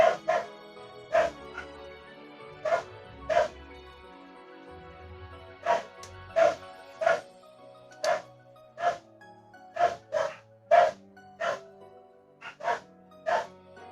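Several dogs bark loudly outdoors, a rapid irregular run of sharp barks and yips from a pack, close and dominant with no talking over them.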